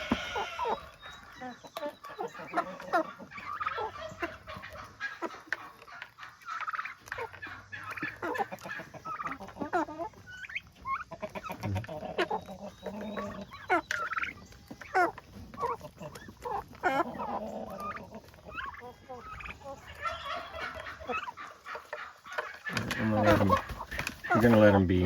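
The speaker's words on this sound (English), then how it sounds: "The turkeys are eating them." Turkeys gobbling and clucking in a pen as they eat Japanese beetles, with chickens nearby; busy overlapping calls sound close throughout, and a louder burst of activity comes at the end.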